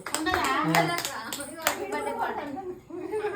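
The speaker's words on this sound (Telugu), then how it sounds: "క్లాప్స్ కొట్టాలి అందరు" Family members clap hands at a wedding anniversary celebration, a loud, scattered burst of applause mixed with chatter and children's voices close by.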